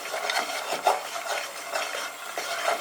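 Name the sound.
stirring cooking chickpeas for hummus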